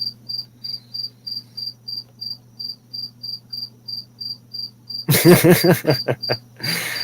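Crickets chirp steadily in a garage, a regular train of short, bright pulses repeating about three times a second over a low hum, until louder clattering and rustling noises break in near the end.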